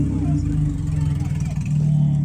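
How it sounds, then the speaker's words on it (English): A low rumbling engine of a lowered Honda Civic EK drones steadily close by, its deep exhaust note filling the whole moment as the car pulls away from a car meet. "There goes Avery in his slammed EK Civic."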